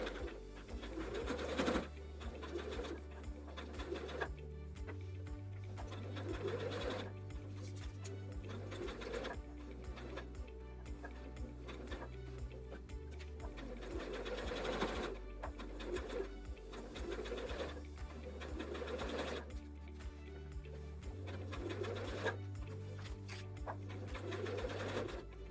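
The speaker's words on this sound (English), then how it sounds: "get to about a quarter inch along that edge, line it up, and then we'll keep on sewing" Steady close stitching of a sewing machine along the edge of an oven mitt, its motor humming in long runs with short pauses and speed changes, faint and alone.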